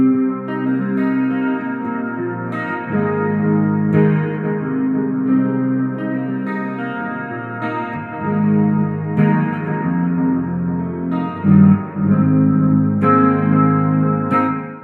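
An electric guitar played through a Positive Grid Spark practice amp on a shimmering, chorus-soaked ambient tone with long reverb and echo, sustained chords ringing out steadily and loud with no talking.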